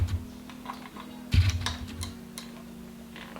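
A single sharp plastic click of an Ethernet connector latching into an outdoor 5G router near the middle, with a few faint ticks after it over a low steady hum.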